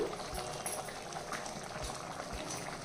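A fish curry with tamarind bubbles in a clay pot, giving a continuous soft boiling and simmering texture with small pops throughout.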